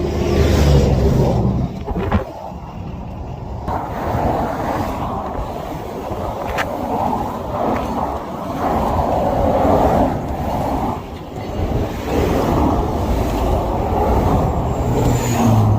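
Vehicles rush past on an interstate beside a stopped GMC Sierra pickup, a loud continuous roar of passing traffic with swells as individual cars and trucks go by.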